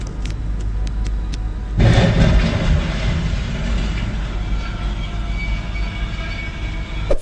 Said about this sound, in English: an oncoming Union Pacific train was unable to slow or stop in time, resulting in a violent collision